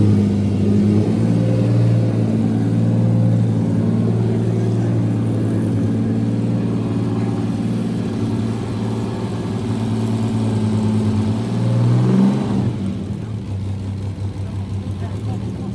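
Classic cars revving at the Concours of Elegance in the UK, a continuous mid-pitched engine drone with rising and falling revs, loud and close, with crowd chatter and outdoor noise underneath.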